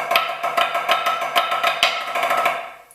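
Rapid snare drum taps in a steady drumline flam-tap roll, with sharper overplayed accent hits standing out at intervals, played close and fairly loud.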